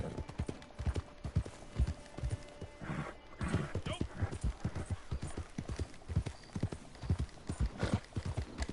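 A horse in the video game Red Dead Redemption 2 gallops with steady rhythmic hoofbeats, loud and close, with a whinny partway through and someone speaking over it.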